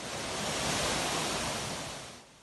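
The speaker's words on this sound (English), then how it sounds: "Water gushing through the rocks at Somerset Falls in Hope Bay, Portland once again." Water gushing through the rocks at Somerset Falls in Hope Bay, Portland, a dense, steady roar of rushing water heard close and loud with no talk, easing off sharply at the very end.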